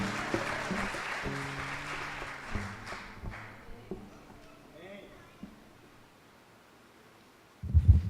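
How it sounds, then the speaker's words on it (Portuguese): Congregation applause for God in a church, with the clapping fading out over several seconds beneath sustained organ or keyboard chords, ending in a short loud thump. "salve de palmas para Deus"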